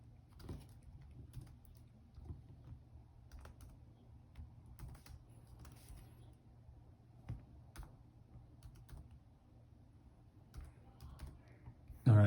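Light, sparse typing on a computer keyboard, soft irregular key taps spread over several seconds in a quiet room, ending with a louder bump.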